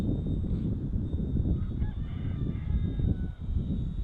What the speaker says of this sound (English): The rooster doesn't know what time of the day it is.